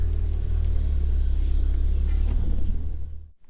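A Ford Fiesta ST, fresh from a boost pipe install, idles steadily while warming up, with a deep, constant low rumble close by that holds for a few seconds and then cuts off abruptly near the end.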